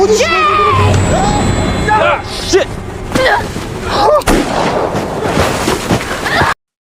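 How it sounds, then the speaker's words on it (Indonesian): Several sharp gunshots ring out amid dramatic film audio from the thriller No Exit, with voices and tense sound effects mixed around the bursts. "Ed yang mendengar suara tembakan segera keluar karena ada yang tidak beres"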